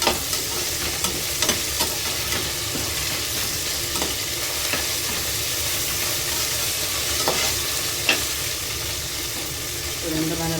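Ginger garlic paste sizzles and fries in a hot pan with a steady crackling hiss, broken by a few sharp clicks of a spoon stirring.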